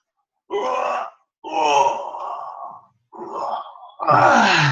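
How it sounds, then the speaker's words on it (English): A person voices a long, luxurious waking yawn in several drawn-out, groaning breaths with short pauses between them, close and loud, the last one the strongest. "one of the first things your body just wants to do, particularly if you've slept well, is to yawn"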